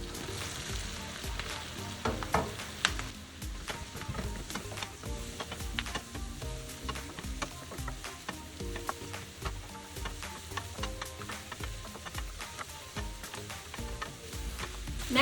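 Coarsely chopped mushrooms sizzle steadily in a pot for cream of mushroom soup, a dense continuous crackle with scattered sharper pops and stirring knocks, heard close with no talking.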